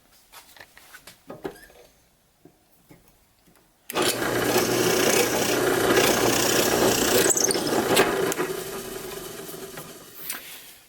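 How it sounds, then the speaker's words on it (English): A 1/4 inch drill bit boring a hole through wood on a drill press, a loud steady whirring grind that starts abruptly after a few quiet seconds and runs continuously to the end. "So I'll drill this out, and by the way, I'm using a 1/4 inch drill"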